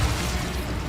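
Incendio fire spell cast in Hogwarts Legacy, a loud, roaring burst of flame with heavy low rumble lasting through the moment, alone without talk.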